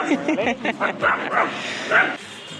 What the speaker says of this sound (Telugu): ఏం కుక్కలు వస్తున్నాయి, దాని వెనక పడుతున్నాయింది